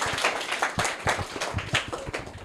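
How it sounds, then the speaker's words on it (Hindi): Students clapping in a classroom after a correct answer, a short burst of scattered, uneven hand claps, fairly close and moderately loud, with no one speaking. "करेक्ट आंसर है, जोरदार तालियां इनके लिए"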